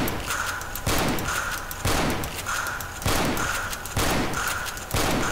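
Repeated pump-action shotgun blasts from the video game Left 4 Dead boom about once a second, each loud shot followed by a short mechanical rack, in a steady rhythm of five or six shots.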